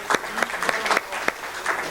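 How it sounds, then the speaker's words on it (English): A room of people at a men's club gathering claps in a short round of applause, a bright, fairly close patter of hand claps over about two seconds. "certainly deserves that round of applause"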